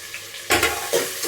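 Tomatoes drop into a hot pan for biryani and start sautéing, a quiet hiss that jumps into a loud sizzle, followed by a couple of close stirring scrapes.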